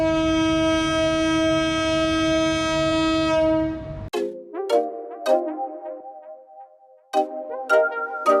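Upakul Express intercity train at a station, departing: a long, loud, steady horn blast holds for about four seconds, then cuts off and gives way to clanking, rumbling carriages and a second, shorter horn sounding nearby.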